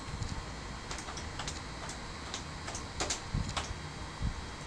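Computer keyboard typing commands into a Cisco router console in a networking lab, scattered soft key clicks in short irregular bursts, close and quiet over faint background hiss.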